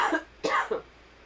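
Someone coughs a few times close by, short raspy bursts with brief gaps between them.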